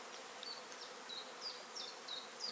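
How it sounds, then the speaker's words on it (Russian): Honeybees hum in an open hive colony that has gone queenless with drone-laying workers, a faint, continuous close buzz with individual bees whining past in brief rising and falling tones. "Потому что пчелы-трутовки, они агрессивные."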